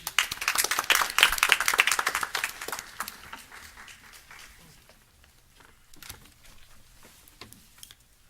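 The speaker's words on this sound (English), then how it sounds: "Everybody wouldn't mind just giving them a round of applause for everything." Audience at a county school board meeting gives a round of applause: dense clapping loud at first, thinning and fading after about three seconds into scattered claps and quiet room noise.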